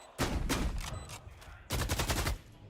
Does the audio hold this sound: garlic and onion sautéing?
no